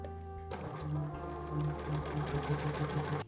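A sewing machine stitches darts on the front bodice of a drop-waist dress, a steady close mechanical whir running evenly from start to finish after a brief start-up.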